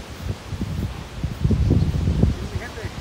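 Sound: strong wind

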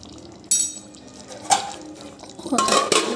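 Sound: stirring chicken garlic fry in a pan

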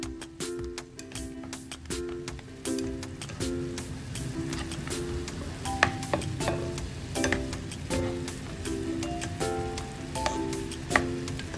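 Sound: pork belly frying and being sautéed in a pan

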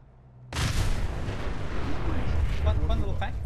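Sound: grenade or explosive detonating in video game Fallout 4

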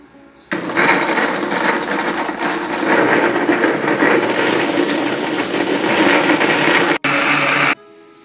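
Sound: blender blending orange and lime juice

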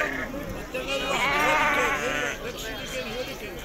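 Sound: sheep bleating at livestock market

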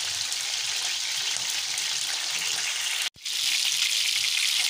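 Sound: meat frying in a pan for chicken korma

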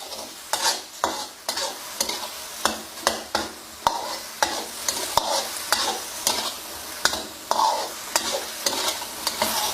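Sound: stir-frying chicken with sweet dark soy sauce in a pan

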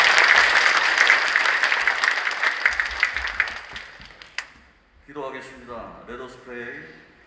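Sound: audience applause welcoming a pastor

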